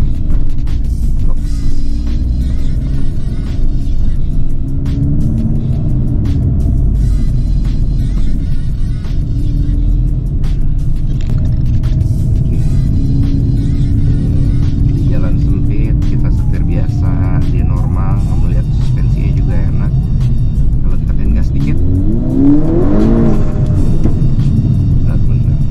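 A tuned Volkswagen Golf GTI Mk6 hot hatch running about 20 PSI of boost accelerates, its loud engine rumble and revving filling the cabin, with a voice talking over it.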